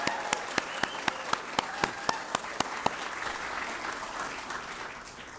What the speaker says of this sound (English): I think deserves another round of applause.